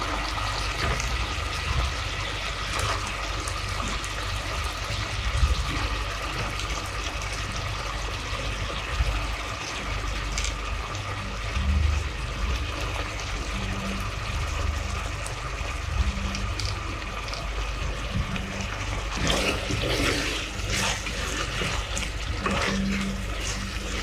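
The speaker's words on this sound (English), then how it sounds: "so I added a little bit of water so that I can cook well" Water poured into hard tomatoes in a cooking pot while making Ghanaian garden egg stew, a steady trickling fill that runs throughout over a broad hiss, with no talk.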